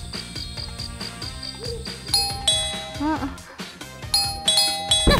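An electronic apartment intercom doorbell chimes repeatedly late at night, bright ding-dong tones ringing over background music and some voices.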